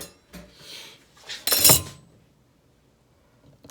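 A metal spatula and other utensils being rinsed in a kitchen sink, giving a short burst of clinks and splashing water amid quieter handling sounds, with a faint click near the end.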